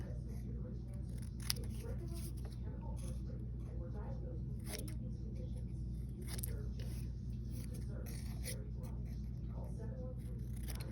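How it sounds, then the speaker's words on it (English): Repeated snips of scissors cutting paper, close by, with rustling paper handling in between over a steady low background hum. "Then I'm going to cut it down with my scissors"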